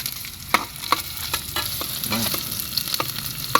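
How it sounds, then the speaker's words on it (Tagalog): Onions sauté in a hot pan, a steady close sizzle broken by light scraping stirs and small clicks of a utensil against the pan. "Gisa natin ng maigi para pagdali."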